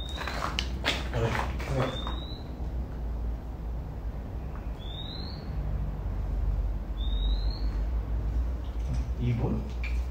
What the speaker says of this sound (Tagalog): Ibon? Ibon yun. Ibon lang.